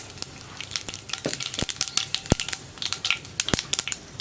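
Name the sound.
mustard seeds added to hot coconut oil, sizzling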